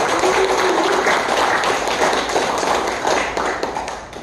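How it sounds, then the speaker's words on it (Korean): An audience applauding at the founding general meeting of a memorial society, dense sustained clapping filling the room at close range and easing slightly toward the end. "다 같이 뜨거운 박수로 축하해 주시기 바랍니다"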